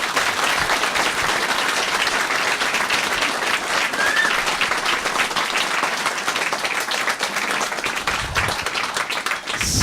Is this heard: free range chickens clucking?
no